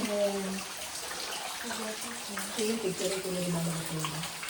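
Water flows steadily through a canyon during a canyoneering outing, a continuous close rush that fills the whole clip while voices speak faintly over it.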